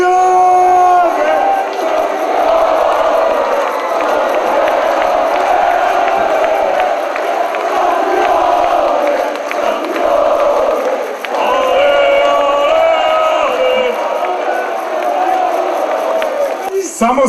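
A Macedonian sports crowd in a packed arena cheers and chants loudly and continuously, rising in waves of massed voices.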